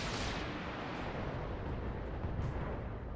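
Heavy mech weapons firing in the BattleTech video game, a dense continuous roar of booming gunfire and explosions lasting a few seconds, loud and unbroken.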